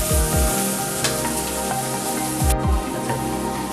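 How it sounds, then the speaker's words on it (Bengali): Vegetables fry in a pan for a chicken stew, a loud, close, continuous sizzle with a few sharp crackles and pops over the top. "বন্ধুরা, আমাদের সবজিগুলো ফ্রাই হয়ে গেছে"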